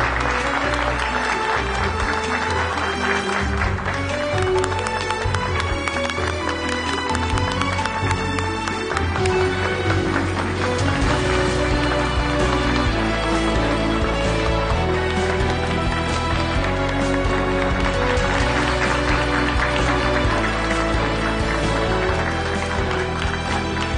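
Sustained applause fills a civil wedding ceremony held at a municipal office, a dense wash of clapping with steady musical tones running beneath it the whole time.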